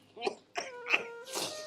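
An old man gives several hoarse, rasping coughs in quick succession, close by, with a short wheezy breath between them.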